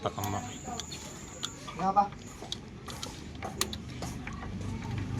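A wrench tightens the spark plug on a motorcycle, producing a series of sharp ratcheting clicks and metallic ticks close by, with someone talking over parts of it.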